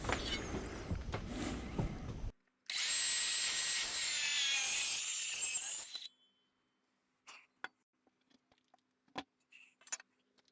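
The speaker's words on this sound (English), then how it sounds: "I'm going to take and just square up each end of this mantle with my battery-powered skill saw." A battery-powered circular saw squares the end of a heavy wooden mantel in one loud, dense burst of about three seconds, after some prior workshop noise, then stops abruptly and leaves scattered faint clicks.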